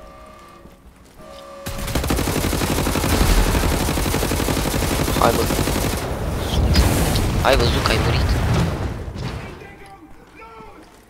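Heavy explosions and rapid gunfire from the shooter game Wolfenstein: The New Order, loud and continuous for several seconds with booming blasts, while someone talks over the din.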